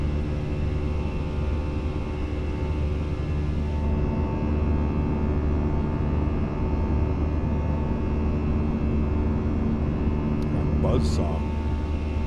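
Airliner engines producing a buzzsaw drone during the takeoff climb in a flight simulator game, a steady dense tonal hum with layered harmonics running throughout, with a voice speaking over it.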